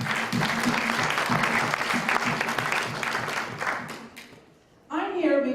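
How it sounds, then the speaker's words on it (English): A community crowd gives a loud, dense round of applause that fades near the end before a voice starts speaking close by. "give yourselves another round of applause"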